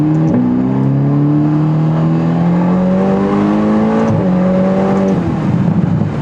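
A Ferrari on Michelin Pilot Sport 4S tires accelerates hard, its engine note climbing steadily through one gear, dipping briefly at a shift near the four-second mark, then rising again loud and close throughout.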